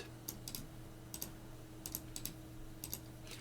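Quiet typing on a computer keyboard while a command is entered in a Linux terminal, with scattered clusters of light key clicks at an uneven rhythm over a steady low background hum.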